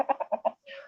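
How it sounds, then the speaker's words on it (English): A chicken clucks five times in quick succession, close and clear, followed by a longer drawn-out squawk, with no voices over it. "I can hear that chicken."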